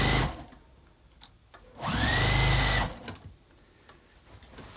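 A sewing machine runs in one steady burst of stitching lasting about a second, partway around the collar of a quilted jacket. It is close and fairly loud, with quiet room sound before and after.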